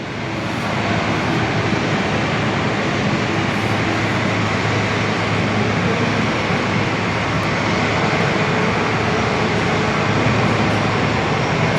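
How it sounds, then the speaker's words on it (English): An Airbus A350 airliner arriving at Perth airport, heard from an indoor viewing area as a loud, steady engine roar that fills the space from start to finish without letup. "It's a cool looking plane. I know, the A350, it's awesome."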